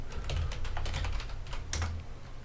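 Quick, uneven keystrokes rattle on a computer keyboard at close range in a run of soft clicks with short pauses, with no voice over them.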